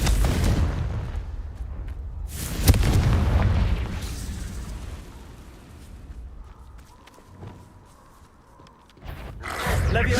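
A Confringo fire spell cast in Hogwarts Legacy bursts with a sharp, loud explosive boom, followed by rumbling game noise, footstep-like movement and a further heavy blast near the end.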